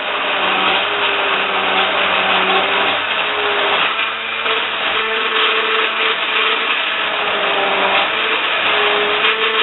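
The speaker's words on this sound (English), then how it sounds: "Push my hand blender right to the bottom. Switch on, tilt slightly." A hand blender whirs steadily and loudly for the whole stretch, its motor pitch shifting slightly as it churns cream of celery soup at the bottom of a pan, close up and uninterrupted.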